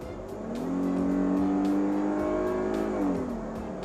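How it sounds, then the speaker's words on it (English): A 2016 Chrysler 300S engine revs up and accelerates, its pitch climbing and holding strong for a few seconds before easing off, loud and close with a faint whir. "why don't you give it a little bit of gas real quick?"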